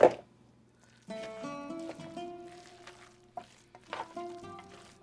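Feta cheese is stirred into spinach, sausage and couscous in a pan, making soft, close scraping and light sizzling touches, with a few brief knocks and a bright clink near the start.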